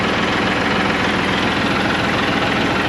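A farm tractor idles steadily in low gear with the park brake released, its engine giving a continuous, close, even rumble with a regular low pulse and no voices over it.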